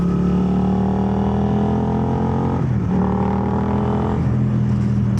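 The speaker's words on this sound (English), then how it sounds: "Today we're riding the gsxr, the GSX-8R" A Suzuki GSX-8R motorcycle being ridden, its engine producing a steady loud drone with tonal harmonics that rise through the revs, dip briefly at a shift, then climb again under constant wind noise.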